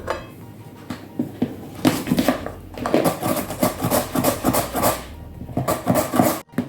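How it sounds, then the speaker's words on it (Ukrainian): Carrots are grated into thin strips, giving a steady, rhythmic rasping and scraping of vegetable against a metal grater, close and fairly loud. "Ось так натираємо моркву."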